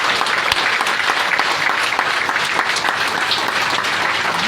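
Audience applause for a friend at a meeting on a biomagnetic product, a dense steady clapping from a crowd that fills the whole stretch at an even level, with no voices over it.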